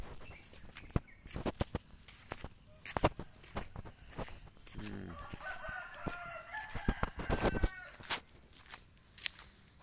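A rooster crows in the distance on a village road amid sharp footsteps and clicks nearby, with a few faint clucks.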